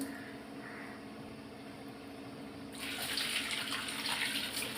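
A kitchen tap runs into a sink to soak vegetables in rock salt and turmeric; after a quiet start the water gushes on steadily and fairly loud, continuing to the end.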